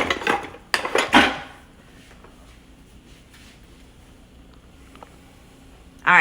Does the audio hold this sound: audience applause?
no